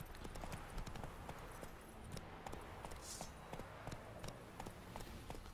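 A horse gallops in the video game The Witcher 3: Wild Hunt, its hooves thudding in a quick, even clip-clop rhythm, quiet and close throughout.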